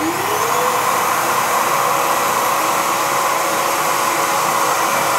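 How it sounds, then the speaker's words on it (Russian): Air-driven turbine in a Feynman sprinkler experiment, a steady loud hiss of rushing air with a rising whine as the turbine spins up and holds speed throughout. "и турбина вращается снова, причем она все три раза вращалась в одну и ту же сторону."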